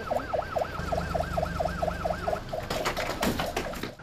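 A wailing animal ambulance siren in Adana, Turkey rises and falls in a steady rapid cycle, with traffic noise beneath, then fades as louder road rumble takes over.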